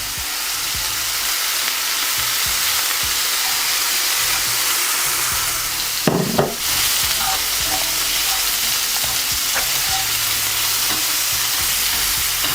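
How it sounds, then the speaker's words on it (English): A steak sears loudly in a hot pan, a continuous dense sizzle close up, broken midway by a brief burst of louder spitting and clatter as it is moved, with no talk. "Just make sure to sear the other side as well now,"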